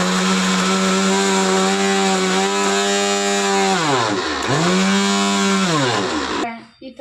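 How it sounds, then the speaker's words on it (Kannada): A mixer grinder grinds fried masala for brinjal bajji with a loud, close, high whine that dips briefly in pitch partway through and then cuts off near the end. "ಓಕೆ, ಇವಾಗ ಇದನ್ನು ಗ್ರೈಂಡ್ ಮಾಡಿ"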